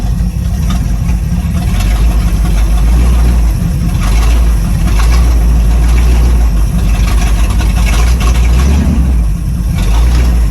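A 1967 Pontiac Firebird with a 400 engine, just revived after 25 years, starts and runs loud and close, a heavy continuous rumble with revs rising and falling.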